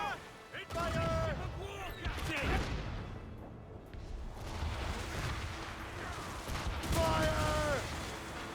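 A ship's cannons in Assassin's Creed Rogue firing a broadside, a rolling barrage of booms and crashes under shouted orders and crew voices, with a fresh volley near the end.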